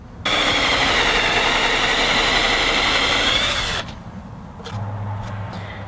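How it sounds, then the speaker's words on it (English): A power drill bores through a guitar pickguard into the wooden body, giving a steady loud whine for several seconds that stops abruptly, followed by quieter handling noises. "by drilling all the way through the pick guard into the wood"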